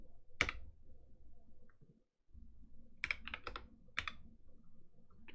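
Typing on a computer keyboard during a WordPress setup on AWS: a few sharp, close key clicks, a single stroke, a short pause, then a quick cluster of taps, with no talk.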